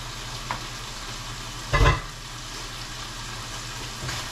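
A large tortilla frying in a kawali, a steady close sizzle with a brief louder scrape or crackle midway and softer pops around it.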